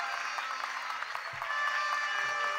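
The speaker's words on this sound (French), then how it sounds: "Applaudissez très fort." A worship congregation applauding hard during a sermon, a thick unbroken patter of many hands that swells slightly toward the end, with a few voices calling out above it.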